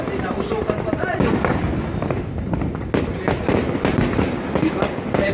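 New Year fireworks in Saba in 2017 burst in a dense, continuous barrage of close, loud cracks and booms, with people talking throughout.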